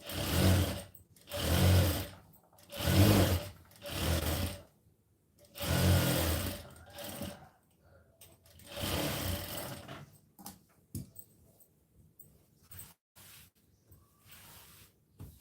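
A sewing machine stitches the joint seam of a blouse piece in repeated bursts of rapid whirring, loud and close, each run lasting a second or two between pauses, then fading into shorter, quieter stitches.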